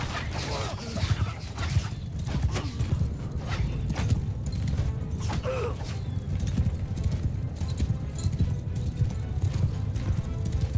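Horse hooves clip-clopping at a steady gallop in the medieval battle game Mount & Blade II Bannerlord, a continuous near rhythm with occasional whinnies and faint battle clatter beneath.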